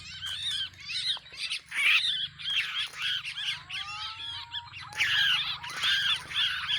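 Curucukan and kutilang birds caught in a mist net in Aceh give repeated harsh squawks and chattering calls in bursts, fairly close, over a low steady hum, with no one talking.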